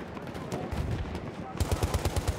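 Rapid automatic gunfire rattles in a Battlefield 1 battle, with a busy mix of shots at first, then a tight burst of about eight loud, evenly spaced rounds close by.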